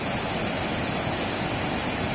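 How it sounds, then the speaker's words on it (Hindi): Fast-flowing river water rushes in Nepal as a constant, dense roar that stays loud and unbroken throughout, with no voices. "कितनी तेज फ्लो है पानी का वहाँ देखो"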